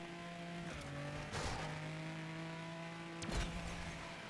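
A car drifts in the racing game Asphalt 9 Legends with a steady engine drone and tire squeal rising at two moments. The sound is faint throughout.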